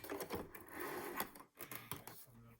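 A sewing machine stitches along a folded-over leather edge for a crossbody purse, the whirring run broken by brief pauses and starts over about two and a half seconds, close and moderately loud.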